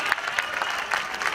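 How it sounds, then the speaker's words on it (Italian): Applause from a crowd at a women's open athletics meet in Villafranca, greeting runners entering the final straight; a steady, dense patter of clapping held at an even moderate level throughout. "Le accogliamo con un bel applauso all'ingresso sul rettilineo finale."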